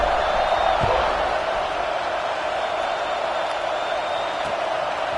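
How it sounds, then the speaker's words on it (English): A steady, loud crowd buzz fills a college football video game stadium during an NC State kickoff, a continuous broad murmur with faint whoops and no distinct pauses. "this crowd is buzzing after that last score"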